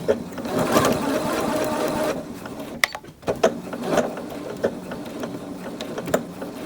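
A sewing machine stitches fabric in short bursts, a fast rhythmic mechanical whirring and clatter that stops and starts close by, with brief pauses and a few clicks between runs.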